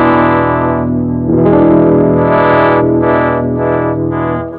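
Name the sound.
electric guitar bridge pickup, sweeping the tone knob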